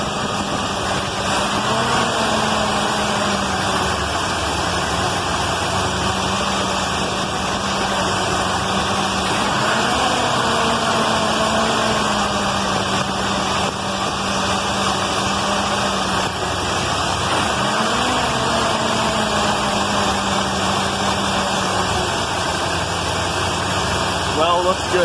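Car engine idling steadily while its RPM is adjusted, a continuous mid-low drone with slight pitch shifts, loud and close throughout, with a person talking over it at times.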